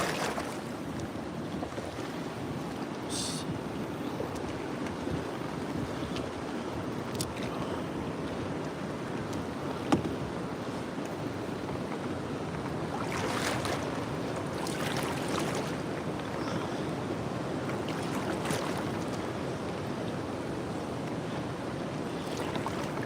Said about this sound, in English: the wind has just been non-stop